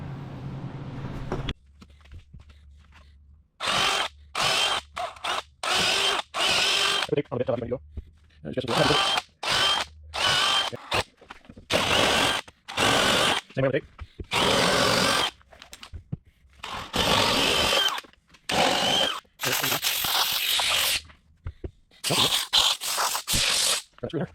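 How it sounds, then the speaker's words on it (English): Power drill driving timber screws up into a 6x6 post while building a bucking deck, heard as loud, close bursts of whirring that stop and start repeatedly, with short pauses between runs. "Here's the timber screws. We'll go up through into the 6x6 and hold that."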